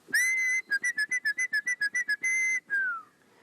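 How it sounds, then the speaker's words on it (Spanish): A person whistles a long clear note, then a quick run of about a dozen short staccato toots, another held note, and a falling slide. "Y ya después de varios silbidos, el aire empieza a venir"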